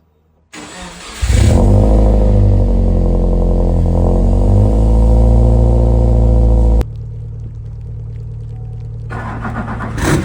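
A Subaru car engine cranks and fires up around one second in, then runs loud and steady at close range. The tone drops to a lower, quieter idle near seven seconds, with rain conditions around the car.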